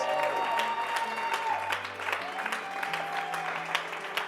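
An audience at a youth empowerment talk claps and cheers for the speaker, scattered hand claps mixed with tonal whoops and voices, fairly soft and distant.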